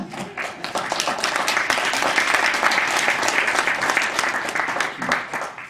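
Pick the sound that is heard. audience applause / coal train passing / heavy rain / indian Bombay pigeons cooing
audience applause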